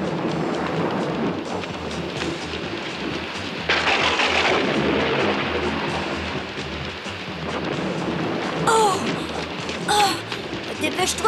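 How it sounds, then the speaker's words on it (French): Rumbling thunder from an approaching storm rolls low and continuous, with a louder swell partway through, beneath a rain-like wash and some talk. "Et un orage se prépare."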